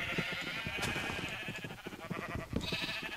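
Minecraft sheep bleating in a survival game world, short nasal calls repeating several times over a steady background with faint clicks and game sounds.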